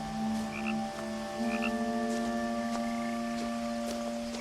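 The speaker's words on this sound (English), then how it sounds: "That is a very loud frog." Loud frog croaking in the video game What Remains of Edith Finch, a steady pulsing croak with sustained tonal calls and short chirps over a layered ambient backdrop, close and prominent with no talking.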